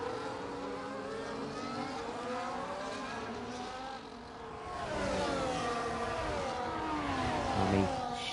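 Race cars battling at Zandvoort in the Netherlands in a racing video game, several engines whining with overlapping rising and falling pitches, steady and fairly close, swelling louder in the second half.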